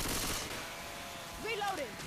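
Gunfire in the co-op zombie shooter Left 4 Dead 2, a quiet rattle of shots in the opening moment followed by scattered game sounds and brief voice-like tones, fairly faint overall.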